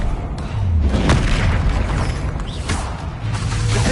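A Bombarda spell blast in the Hogwarts Legacy video game, a loud deep boom rolling out over about four seconds with rumbling low-end crashes and a brief whoosh, heard alone without speech.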